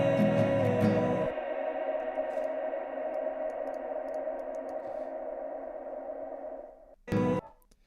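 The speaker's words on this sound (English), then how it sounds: "30-second reverb. Roll off the lows and let's really modulate it to get a bit of like color" A sustained tone rings out in a long 30-second reverb tail with the lows rolled off, wavering and slowly decaying, ending with a short loud burst of sound.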